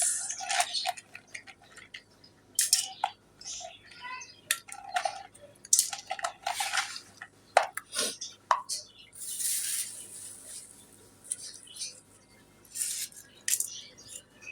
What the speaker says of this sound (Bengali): রোস্টের জন্য আমি মশলাটা মিলিয়ে নিতেছি